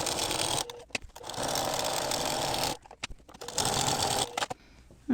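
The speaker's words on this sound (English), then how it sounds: "I'm going to just baste it with the walking foot on the two sides and the bottom." A sewing machine with a walking foot bastes fabric with black thread in short bursts, a fast mechanical whirring that starts and stops several times with brief pauses between runs, close and fairly quiet.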